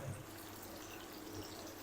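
Water is poured into arbi (taro) masala gravy in a cooking pan, a faint, brief splashing trickle heard alone without talk.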